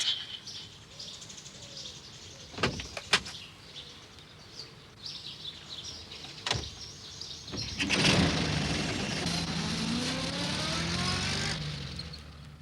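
Postman Pat's van drives along in sunshine: a steady engine hum swells up and holds for several seconds after scattered clicks and thumps, with birds chirping around it.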